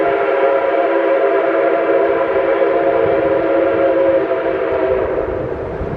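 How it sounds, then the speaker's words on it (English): Nickel Plate train passing close by, a steady loud rumble of wheels rolling on the rails with sustained tonal ringing, continuous throughout without voices. "We can now hear the wheels on the rails."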